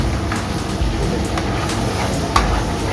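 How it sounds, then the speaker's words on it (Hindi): Cream for chicken handi cooks in a pan as its oil begins to separate, giving a close, continuous low sizzle and bubbling with a few faint clicks, no voices. "ये देखिए अब क्रीम पकना शुरू हो गई है, इसमें से ऑयल बाहर आना शुरू हो गया।"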